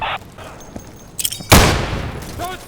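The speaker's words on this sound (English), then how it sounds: "Wait for the grenades to die down" Grenade blasts in the 2014 shooter game Insurgency: a sharp, loud boom erupts mid-clip and rumbles on with a long noisy tail, preceded by scattered smaller pops and clicks.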